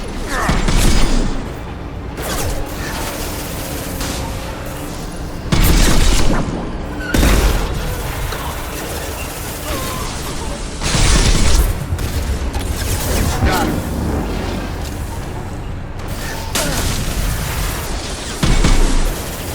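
Weapon fire and heavy booms from a sci-fi shooter fill a dense, loud battle soundscape, with repeated bursts and explosions rising above constant mechanical rumble.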